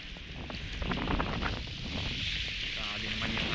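Strong wind gusting on an open seashore during shore-casting fishing, roaring broadband across the microphone at a steady loud level, with faint speech underneath.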